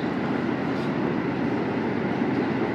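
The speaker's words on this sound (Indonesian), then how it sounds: "Kita melintas langsung di stasiun Cikarang." Steady, loud rumble of the Argo Bromo Anggrek express train running through Cikarang station at about 65 km per hour, a continuous broadband roar of wheels and motion heard from on board without pause.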